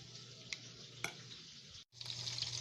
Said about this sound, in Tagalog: haluin lang natin to. I-mix-mix natin sila para mag-combine yung mga lasa.